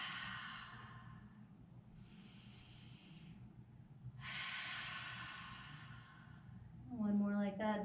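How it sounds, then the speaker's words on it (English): Deep breathing in a beginner yoga session: a long inhale, then open-mouth exhales, each a soft, breathy, close rush of air separated by brief pauses, with a voice beginning to speak at the end. "take a deep inhale here and open mouth exhale"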